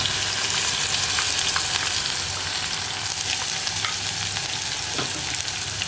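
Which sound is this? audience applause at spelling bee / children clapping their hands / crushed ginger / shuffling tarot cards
crushed ginger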